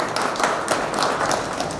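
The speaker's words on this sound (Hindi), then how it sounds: "इनके लिए भी तालियां बजाएंगे।" Audience applause for a poetry performer at an anniversary celebration, a short dense burst of clapping with no speech over it.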